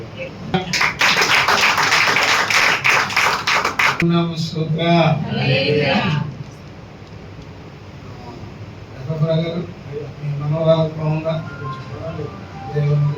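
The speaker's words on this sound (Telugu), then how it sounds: "చప్పట్లు కొట్టారు" Congregation clapping together during a church prayer gathering, a dense burst of many hands for a few seconds before fading out, followed by someone speaking over the room.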